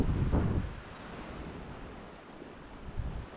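Wind gusts buffet the microphone across an open mountain lake area, giving a low rumbling blustery roar with a few stronger bursts; no talking.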